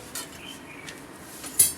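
An iron tawa griddle and chimta tongs knock and clink a few times, light metallic taps spaced irregularly with a sharper clank near the end, close by in a quiet room.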